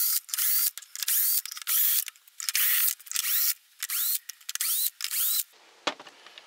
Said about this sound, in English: there's 1, 2, 3, 4, 5, 6, 7, 8, 9 or 10 screws coming out